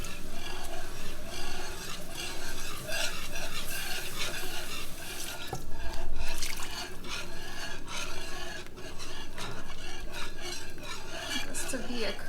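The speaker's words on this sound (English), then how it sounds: "I'm going to take my heated milk and add that in and whisk along the way." A whisk scrapes steadily around a pan as heated milk is added to build a creamy sauce, producing a continuous close rasping and stirring sound that runs throughout without pause and with no talking.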